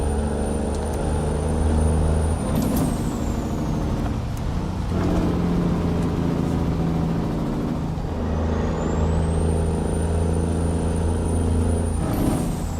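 A stock truck in American Truck Simulator drones with a steady engine note while brief air-brake hisses and whining pitch sweeps rise and fall over it.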